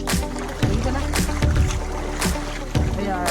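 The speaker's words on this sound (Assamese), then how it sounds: "আপোনালোকে শুনিব পাৰিছে চাউণ্ডটো ঝৰ্ণাৰ চাউণ্ড শুনিছেনে" Steady broadband rush of a waterfall in the Patkai rainforest, continuous and fairly loud, broken by a few sharp knocks and thumps nearby.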